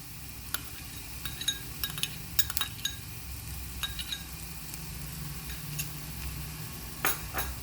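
Finely chopped green chillies drop into a pan of frying onions, a steady low sizzle broken by scattered clinks and scrapes of a spoon stirring against the metal pan.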